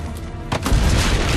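Cannon fire in the video game Assassin's Creed Brotherhood, a deep booming blast from cannons on a rampart, rising at mid-clip into a loud, sustained low rumble with no talk.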